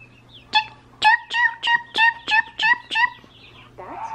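Electronic toy playing a recorded chicken cluck: eight loud, evenly spaced clucks in a steady rhythm, close and clear, over a low constant hum, followed by a brief rising squeak at the end.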